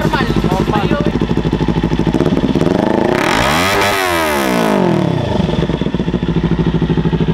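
A motorcycle engine is revved hard at close range for neighbors, with a loud continuous roar that rises and falls in pitch mid-clip before settling back to a rough, throbbing run.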